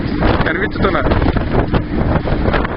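Wind buffets the microphone aboard a cruise excursion boat in Plymouth, a steady broadband rush that runs under close conversational speech throughout.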